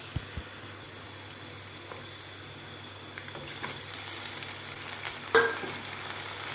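Chicken pieces fry with onions in oil in a pan, a quiet, even sizzle with occasional light stirring scrapes that grow a bit louder near the end.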